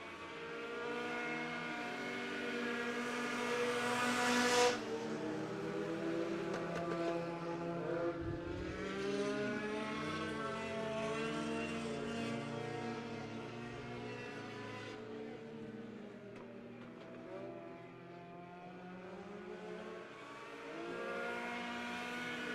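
Race cars running a heat race at Crawford County Speedway, their engines roaring together in a steady, loud drone that rises and falls as they rev and sweep past, filling the whole stretch without pause.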